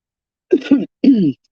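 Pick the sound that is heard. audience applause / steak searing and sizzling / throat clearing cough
throat clearing cough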